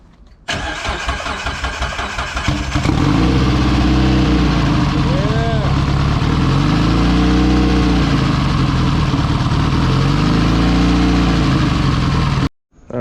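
Porsche 944 Evo cranking and firing up, settling into a loud steady idle with revs rising and falling, close up, with people talking over it before it cuts off abruptly near the end.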